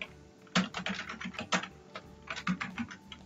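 Quiet clicking of a computer keyboard in bursts of quick keystrokes with short pauses, close and alone, while working in Microsoft Word.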